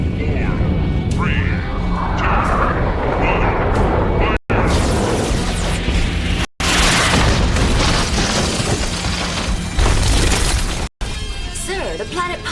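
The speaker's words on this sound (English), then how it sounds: "Sir, the planet Palmyr's been destroyed." A planet is blown apart in the Robotech video game, a long, roaring, loud explosion rumbling continuously for several seconds with crackling bursts and brief cut-offs, under in-game voices.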